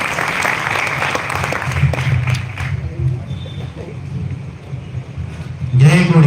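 A crowd at a live public gathering applauds steadily for several seconds, the clapping rough and dense, with a voice heard over it near the end.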